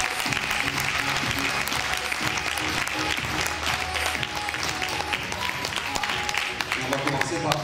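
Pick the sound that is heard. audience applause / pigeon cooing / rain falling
audience applause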